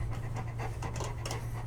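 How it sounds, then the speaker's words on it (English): A dog pants rapidly and steadily very close up, a continuous breathy rhythm with a low hum underneath. "Really picking up on the panting."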